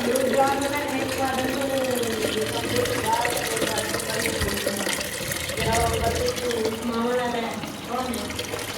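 Water runs steadily from a tap, a continuous splashing rush as something fills, with voices talking over it throughout.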